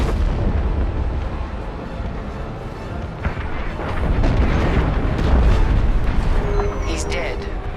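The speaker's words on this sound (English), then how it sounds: "The frigate is about to explode." A frigate blows apart in Star Wars Squadrons, a dense, loud rumbling roar of explosions and crackling debris that builds and sustains across the whole stretch, with sharp bursts near the end.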